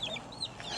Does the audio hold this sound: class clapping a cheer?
no